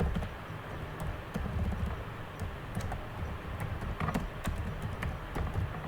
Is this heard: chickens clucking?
no